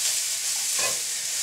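Chipotle chilli ingredients, including chocolate and porter, sizzle and spit in a hot pan as they are stirred, a close, bright continuous frying hiss with a brief swell of stirring midway.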